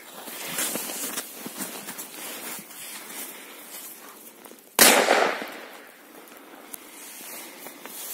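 An old 2017 firecracker from a K1000 test set off outdoors with one sharp, loud bang midway, following crackly, scuffing background noise, with no talking.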